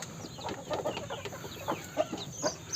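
Ducks kept in a farm pen, a quiet flurry of short, soft quacks and clucking calls coming close together in irregular bursts over low background noise.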